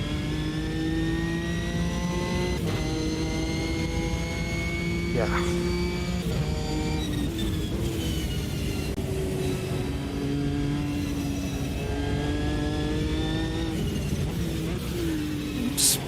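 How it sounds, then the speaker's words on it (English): A mid-mounted V6 engine in a prototype race car in the racing game Automobilista 2 holds a steady, sustained drone with gradual pitch rises and shifts at speed, continuing throughout while someone speaks briefly over it. "beautiful V6 sounding engine from the middle of this prototype"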